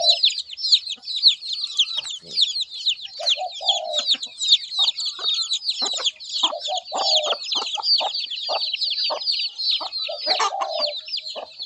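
Chickens cluck in a dense, continuous chorus as they are fed in the morning, with sharp overlapping calls and occasional lower clucks nearby.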